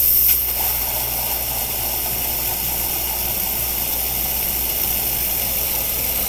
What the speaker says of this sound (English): we'll let the hot water run.